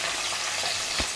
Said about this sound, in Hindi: तो ये देखिए गोभी जो है ना फ्राई हो चुका है